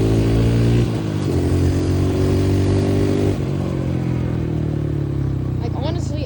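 Two-stroke dirt bike engine holding a steady buzzing drone that shifts pitch as it revs, loud and close throughout, with a brief dip and climb partway through.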